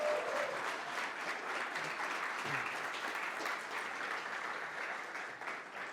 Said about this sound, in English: Big round of applause for these people.